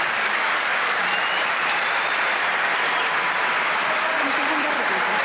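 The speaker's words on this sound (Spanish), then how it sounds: "Un aplauso para ellos" A dense, steady burst of crowd applause fills a presidential debate hall, many hands clapping loudly and evenly throughout with no break.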